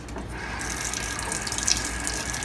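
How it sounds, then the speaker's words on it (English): Tap water runs steadily into a sink while a spoon is rinsed under it, a continuous close splashing rush with faint clinks of metal. "rinse this spoon off and put that in there"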